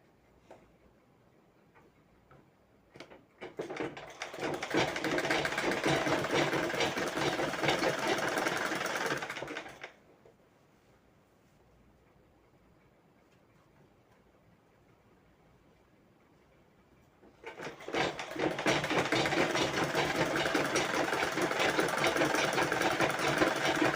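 A sewing machine stitches a lined blouse in two loud, steady running bursts of rapid mechanical clatter, separated by a quiet pause with only faint handling sounds.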